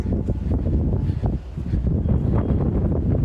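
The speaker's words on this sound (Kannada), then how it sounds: "ಫುಲ್ ತಣ್ಣಗೆ ಗಾಳಿ ಇದೆ, ಸಿಕ್ಕಾಪಟ್ಟೆ ಗಾಳಿ ಇದೆ" Strong cold wind buffets the microphone in a constant low roar on foggy Kailasagiri Hills near Chintamani, loud and close, with gusty fluctuations and no voices.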